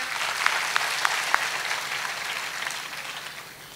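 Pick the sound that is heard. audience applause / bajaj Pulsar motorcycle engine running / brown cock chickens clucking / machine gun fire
audience applause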